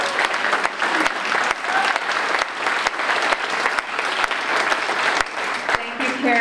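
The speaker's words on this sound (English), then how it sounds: "Give her a warm round of applause." Loud, dense applause rises from the audience at a Democratic candidates' breakfast in Holliston as a state representative is welcomed, with sharp individual claps standing out throughout the steady clapping.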